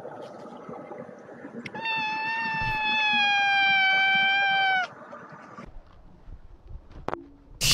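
A cat lets out a loud, drawn-out meow lasting about three seconds, rich and tonal, set between stretches of background noise and music from short social media videos.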